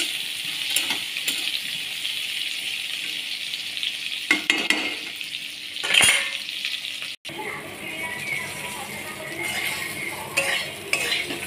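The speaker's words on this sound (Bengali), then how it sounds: "পটলের তরকারি কষাকষি হচ্ছে" Pointed gourd curry frying in a pan, with a spoon scraping and stirring in bursts over a soft sizzle, plus a sharp metallic knock partway through.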